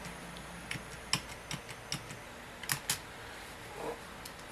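Keys clack on a computer keyboard while someone sets up a DOS game, with irregular single taps and short bursts at a moderate distance and no talking.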